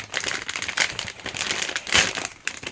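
A plastic bag from an AliExpress parcel is torn open during an unboxing, giving close crinkling and crumpling rustle that runs on without pause, with brief louder crackles and no voices.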